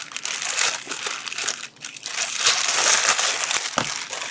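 A plastic AliExpress shipping bag crinkles and crackles continuously as it is handled and opened, close up, with no talking.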